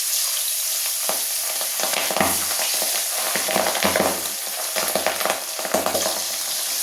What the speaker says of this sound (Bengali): তেল গরম হয়ে গেছে, এবার আমি মাছগুলোকে আস্তে আস্তে ছেড়ে দেবো